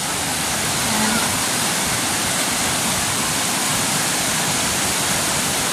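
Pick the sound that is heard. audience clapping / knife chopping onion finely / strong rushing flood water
strong rushing flood water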